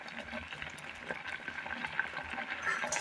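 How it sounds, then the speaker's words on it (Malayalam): Thick curry with jackfruit seeds bubbling and boiling in a pot, a steady stream of soft pops and gurgles heard close up. "ചക്കക്കുരു വെച്ച് കൊടുത്തതിന് ശേഷം നന്നായി ഒന്ന് തിളച്ച് വന്നിട്ടുണ്ട്."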